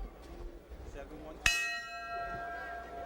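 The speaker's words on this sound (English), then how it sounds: "Bell sounds to bring the battlers into the center of the ring for round 2." A single sharp boxing ring bell strike rings out loudly at a fight, sustaining with a long metallic decay, following a stretch of quiet crowd murmur.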